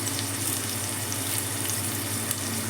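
Curry leaves fry in hot oil with sliced green chillies, giving an even, continuous close sizzle that holds at a steady level with no voices.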